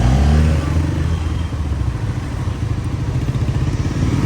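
A nearby motorcycle engine chugs with a steady, throaty exhaust rhythm, slightly rising and falling as if moving slowly through traffic.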